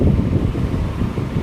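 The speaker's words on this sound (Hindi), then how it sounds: "बाहर बारिश लग गई हुई" Steady rain falls outside a home during house cleaning in Chandigarh, a continuous broadband wash that holds at an even level across the whole short stretch with no voices.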